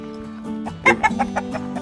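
Several chickens cluck close by in a heritage park farmyard, a run of short rhythmic clucks following a low steady hum, with no talk over them.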